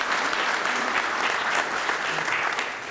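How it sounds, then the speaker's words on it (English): Audience applause fills a room at an Oklahoma City city council meeting: dense, steady, sustained clapping from many people at an even loudness throughout, with no voices standing out. "this applause is to show our appreciation"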